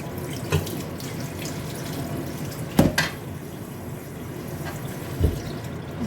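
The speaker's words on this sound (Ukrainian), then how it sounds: "Запитала холодною водою." Cold tap water runs steadily over blanched frozen cauliflower in a sink, a continuous close splash with a few sharper clatters.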